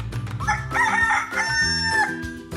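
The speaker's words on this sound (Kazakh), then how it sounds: "Әтеш." A rooster crows loudly and close by, one long drawn-out call with a rising then sustained, slightly wavering tone.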